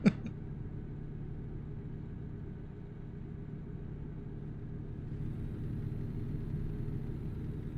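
A truck in American Truck Simulator coasts with its engine at a low, steady rumble, faint and even throughout after a brief click at the start.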